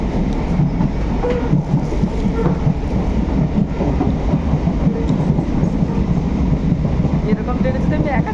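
A local passenger train near Ranaghat, West Bengal, running almost empty: a loud, steady rumble and rattle of the carriage continues without a break from start to finish.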